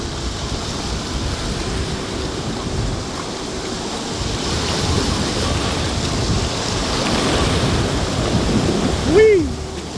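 River water rushing steadily beneath a bamboo raft on the Amandit River at Loksado, a broad continuous wash of flowing water that swells slightly toward the end, with a brief voice near the close.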